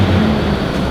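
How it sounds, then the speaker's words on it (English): A Land Rover engine revs after a snorkel install in a shed, a loud, steady low rumble held close for a moment. "You're not revving it enough."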